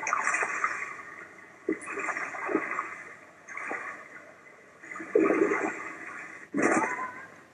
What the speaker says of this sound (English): crossed the road to Scandia Creek, watched the salmon making their way upstream